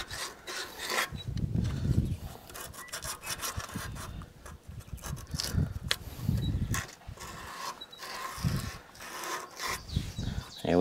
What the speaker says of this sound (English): So I want to take some emery cloth. I'm just going to clean that off.